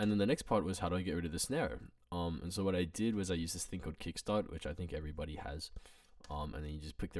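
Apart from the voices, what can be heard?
No everyday noises stand out.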